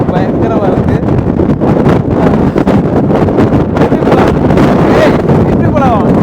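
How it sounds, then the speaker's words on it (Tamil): Strong, gusting high wind on a hilltop, roaring and buffeting the microphone loudly and continuously throughout, with a person talking underneath. "பயங்கரமான காற்று"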